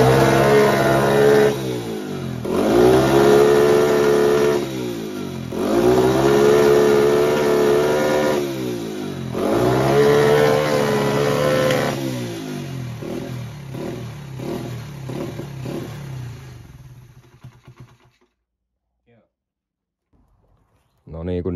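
A moped engine fires up and runs after an engine swap, revving in repeated rising and falling bursts with a raspy mid-pitched drone, then idling down and cutting out near the end, with people talking nearby.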